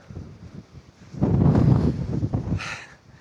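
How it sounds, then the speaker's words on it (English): Wind buffets the microphone in low rumbling gusts on a lakeside hike at Silvaplana, Engadin, Switzerland, swelling louder midway through before easing off, with no voices. "it's so windy."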